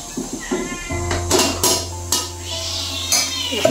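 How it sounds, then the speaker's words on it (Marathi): Several cats meow in a home kitchen, with short repeated cries spread across the stretch over a low electrical hum and occasional clinks of dishes and cutlery. "गँग बघा म्याव म्याव चालू इकडे"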